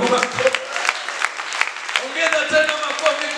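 A Pentecostal church congregation claps for Jesus, brisk overlapping hand claps throughout, with voices calling out over the applause.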